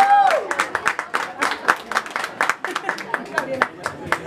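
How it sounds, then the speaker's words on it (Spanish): Guests at a quinceañera celebration with a youth mariachi band applaud loudly, scattered claps and crowd noise mixed with voices and whistles, close and lively. "fuerte aplauso"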